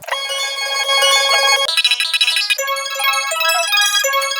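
A keyboard chord sample plays in music production software, bright sustained electric-piano chords changing every second or so, clean and fairly loud with no talking.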